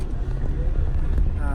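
A tour bus bound for Chichen Itza in Mexico rumbles along, heard from a seat on board as a steady low engine and road drone that holds through the whole short stretch with no talk.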